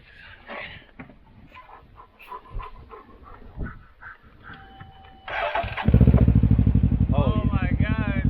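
Can-Am Ryker 600 motorcycle fitted with a Predator exhaust, starting up and revving hard, the loud throbbing engine rising abruptly after a stretch of background chatter and clatter, with people talking nearby.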